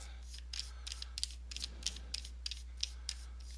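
Quiet series of small metallic clicks and ratcheting taps as an emitter is screwed back onto a lightsaber hilt, irregular and close, with no talk.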